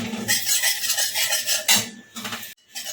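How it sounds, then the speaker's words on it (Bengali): A spoon scrapes and stirs a ripe mango mixture with ghee in a metal pan, loud repeated scraping strokes with short clinks and a faint sizzle underneath, broken by a brief pause near the end. "এটাকে আমি ভালো করে নেড়ে নেবো ঘিয়ের সাথে"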